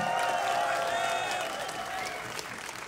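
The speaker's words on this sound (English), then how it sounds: "For any of you MaDFroG fans, give a cheer for the Swedish Zerg" A live esports tournament crowd at DreamHack cheers and applauds for a Swedish Zerg StarCraft player, with a dense, steady roar of clapping and shouting that fades slightly toward the end.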